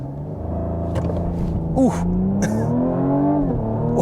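A 2023 Cadillac CT5 3.0T all-wheel drive in sport mode, brake-torqued and launched from 0 to 60, its engine revving steadily upward in a loud, continuous rising drone, with a brief exclamation from a voice inside.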